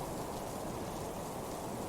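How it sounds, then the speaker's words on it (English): Steady rain patters against windows, a dense, even hiss with no breaks, fairly faint and with no voices. "I could hear the rain pattering against the windows."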